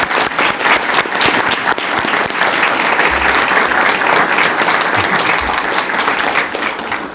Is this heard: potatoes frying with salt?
no